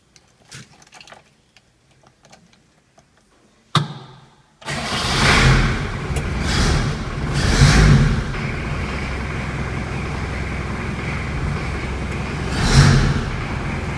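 A few faint clicks and a cranking starter, then a hard-starting Hindustan Ambassador car engine under restoration catches and roars to life, idling loudly with a couple of revs.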